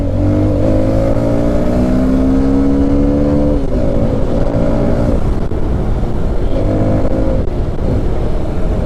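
An NK 150 budget dirt bike engine runs continuously while being ridden, a loud steady drone that climbs in pitch through the gears, eases briefly between shifts and picks up again, with no talking over it.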